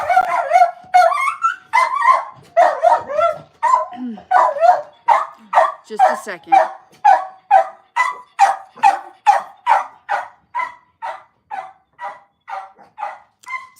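Humphreys the dog barks repeatedly after the doorbell rings, a long run of sharp, evenly spaced barks close by that start out excited and fade slightly over time, with a brief spoken word from a person early on.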